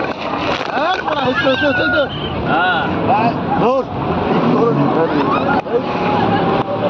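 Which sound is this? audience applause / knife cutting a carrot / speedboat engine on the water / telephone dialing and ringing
speedboat engine on the water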